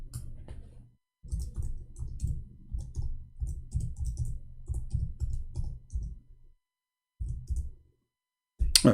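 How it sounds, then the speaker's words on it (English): Keyboard typing in rapid bursts of clicks, with short pauses between runs of keystrokes, close and fairly clear. "I'm typing in English."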